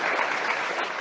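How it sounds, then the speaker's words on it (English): Steady applause from a legislative or press audience as Justin Trudeau introduces handgun freeze legislation, dense clapping filling the whole second at an even level. "And everybody applauds"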